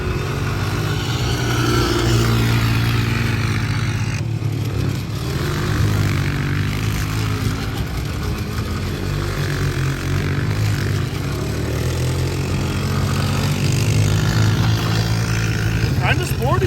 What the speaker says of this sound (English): Kind of sporty for 200cc four-stroke.